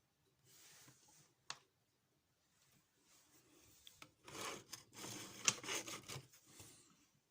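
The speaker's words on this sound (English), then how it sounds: "I use a number 3 tap because it's very soft as the plastic" A number 3 tap cuts threads into soft plastic, giving faint, intermittent rasping and scraping strokes with a few sharp clicks, close up and quiet.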